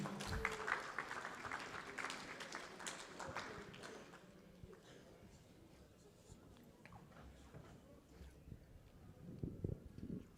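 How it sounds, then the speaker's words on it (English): Audience applauding a contestant called to the stage at an entrepreneur pitch challenge, a modest burst of clapping that fades after a few seconds into room noise and light movement. "can I get a round of applause"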